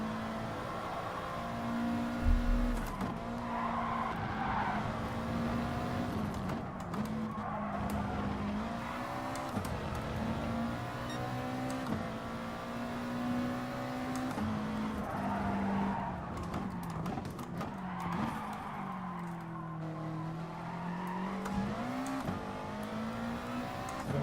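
A race car in Gran Turismo Sport runs laps, its engine pitch rising and falling through gear changes and corners, with occasional tire squeal and a brief bump, loud and continuous.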